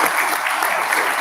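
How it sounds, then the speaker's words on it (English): A crowd gives a round of applause at a campus talk, dense even clapping, steady and fairly loud for the whole brief moment. "So give him one more round of applause."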